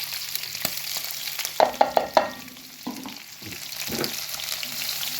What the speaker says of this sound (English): As you can see, the fat has browned up nicely, so I'm just going to add the onions now to this